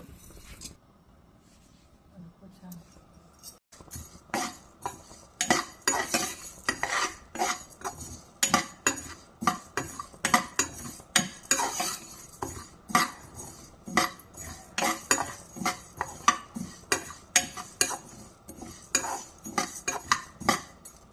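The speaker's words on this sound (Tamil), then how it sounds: "உளுத்தம்பருப்பு போட்டுக்கோங்க. கடாய் காய்ஞ்சோடனே நல்லா பொன்னிறமாக வறுத்துக்கோங்க." Urad dal is dry-roasted in a hot kadai, and a metal spoon scrapes and clinks against the pan in quick, repeated strokes that grow busier and louder after a quiet start.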